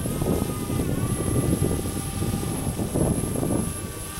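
A DJI Spark drone hovering outdoors in a light breeze, giving a steady buzzing propeller whine that holds evenly throughout at moderate distance, with no talking.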